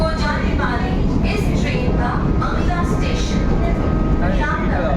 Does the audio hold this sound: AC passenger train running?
yes